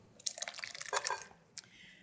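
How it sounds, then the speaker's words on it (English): Wet ingredients pouring into a bowl of dry ingredients for a wholesome breakfast bake, a soft wet splattering and dripping that lasts about a second, then a brief squelch and a faint trailing trickle, close by. "just add your wet to your dry"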